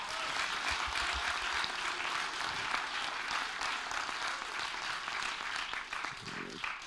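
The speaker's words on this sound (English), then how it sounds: "vous pouvez les applaudir, hein, franchement." An audience at a student game presentation applauds the presenters, a dense, sustained burst of clapping from a room full of people that stays strong throughout, with a little low murmur beneath it.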